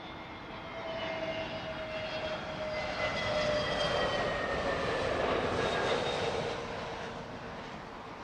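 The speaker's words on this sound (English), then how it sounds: "This is TAP Air Portugal, flight 1352," A TAP Air Portugal airliner from Lisbon coming in to land at Heathrow, its jet engine roar with whining tones building, peaking mid-clip and then easing as it passes at moderate distance, without talk.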